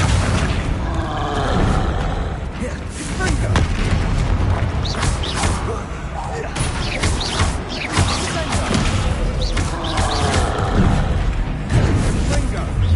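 Explosive spells cast in rapid succession during combat in the video game Hogwarts Legacy: loud, repeated booming blasts and crashes with roaring bursts, dense and continuous over a busy battle mix, with voices in the game shouting.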